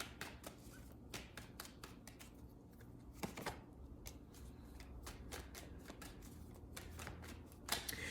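A deck of tarot cards is shuffled by hand in a quiet room, giving a steady run of quick papery flicks and taps with a few louder snaps near the end and no talking.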